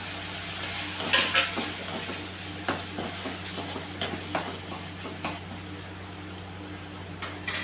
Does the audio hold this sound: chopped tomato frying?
yes